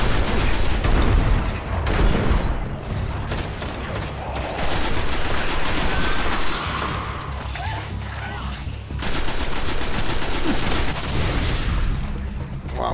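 A grenade bursts amid rapid automatic gunfire in the online shooter Destiny, with dense rattling volleys, a few heavy booms and crashes, loud and close throughout, pausing briefly between bursts.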